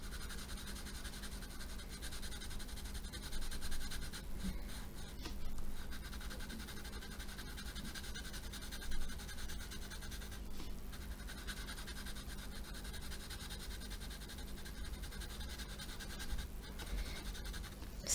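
Coloured pencil scratching steadily across paper while drawing a pineapple, with the pencil turned now and then; a soft, continuous, close grainy rasp with slight swells in pressure and no talking.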